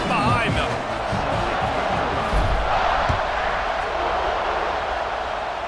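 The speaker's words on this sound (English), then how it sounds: "this crowd now ready to get behind them" Stadium crowd roar in the video game EA Sports College Football 26, a broad, steady wall of crowd noise with thuds and swells underneath, heard under a commentator talking.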